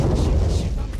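Distant cannon fire from a besieged hill fort near Panhala and Pavangad: a deep, heavy rolling boom that fills the full second as a loud, continuous low rumble.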